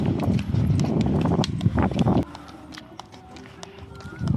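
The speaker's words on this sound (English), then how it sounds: "I don't feel so comfortable with the horse carriages." Horses pulling carriages on a street in Egypt clip-clop with quick, rhythmic hoofbeats, loud and close at first before fading to a quieter background with scattered knocks, mixed with voices talking nearby.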